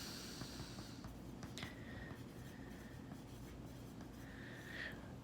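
Pen or marker strokes scratching across paper as a simple toilet-paper roll is sketched by hand, soft intermittent scribbles in a quiet room with low background hum.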